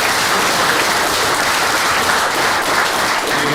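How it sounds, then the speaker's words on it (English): Dense, steady applause from an audience at a live financial-education event, a continuous wash of clapping with no pauses, loud and close throughout. "Guys, round of applause for"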